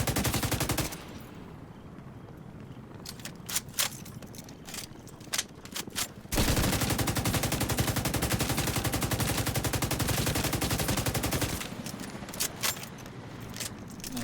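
Rapid automatic gunfire in The Division 2 rattles out in loud sustained bursts, with clusters of sharp single shots between long continuous strings of fire.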